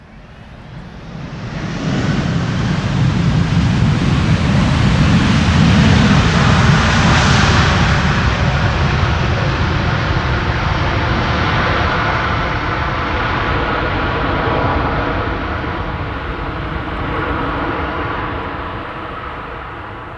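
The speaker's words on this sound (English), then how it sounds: "A wheelie. Reversers being applied." An airliner touching down in gusty crosswind at Amsterdam Schiphol Airport with thrust reversers applied, a loud sustained jet roar that swells after the first couple of seconds and holds steady, slowly easing toward the end.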